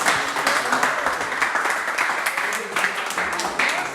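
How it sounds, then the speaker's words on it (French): Applause from a studio audience on a face-to-face dating game show, brisk clapping with sharp individual hand strikes over a busy crowd murmur, fairly loud and continuous. "Des applaudissements."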